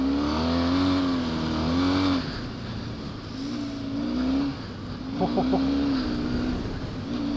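An off-road motorcycle on slippery ice mixed with chalk revs up, shifting into first and then second gear, the engine note rising, dropping at each change and climbing again, close and loud, with a voice talking over it.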